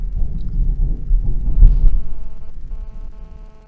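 A thunderstorm rumbles low and heavy, a deep rolling throb swelling in the middle and then fading, loud and close with a faint hum underneath.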